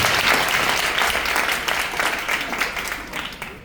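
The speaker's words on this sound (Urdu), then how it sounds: "آئیے زندہ خدا کے لیے زوردار تالیاں بجائیں" A church congregation at an Advent Sunday service claps loudly and steadily in sustained applause, close and dense throughout, fading slightly toward the end.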